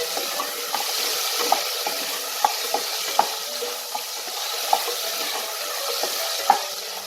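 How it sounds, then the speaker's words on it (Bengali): Potatoes frying with salt and turmeric give off a steady, hissing sizzle, broken by light ticks and taps as a spoon scrapes the pan in an irregular rhythm, close and with no talking. "নুন আর হলুদ দিয়ে আলুটাকে সুন্দর করে লাল করে ভেজে নেব।"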